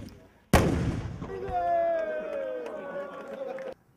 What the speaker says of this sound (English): there was even more cannon action for this prestigious occasion